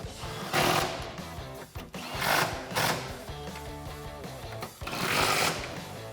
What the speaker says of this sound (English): For the rear of the vehicle, we can fit this impact gun up here, so I'm going to use that.